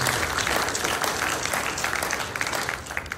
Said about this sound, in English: I'd like to give these ladies a round of applause for taking care of Brittany and everything else